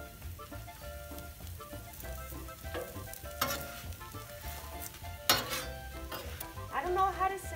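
Tortillas frying in oil in a pan for birria tacos, a steady close sizzle with occasional scrapes and clinks of a utensil against the pan.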